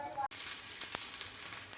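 A dosa sizzles steadily on a hot home tawa just after being flipped, a soft continuous hiss with a sharp click near the start and a few faint pops.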